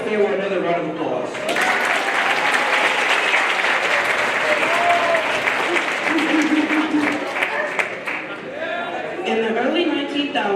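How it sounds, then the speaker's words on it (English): Audience applause after a student performance at a school Black History Month event, a loud, steady wash of clapping that fills the clip, with bits of voices and cheering at the start and end. "Let's give Fayewa another round of applause."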